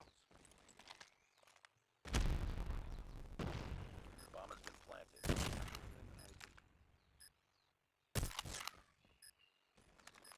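A grenade blast and gunfire in Call of Duty Mobile: several heavy explosive bursts hit hard and loud at intervals, mixed with rattling shots and quieter footsteps between them.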